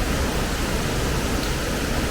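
Goit Stock waterfall pours in a steady, dense roar of falling water, loud and unbroken throughout with no voices.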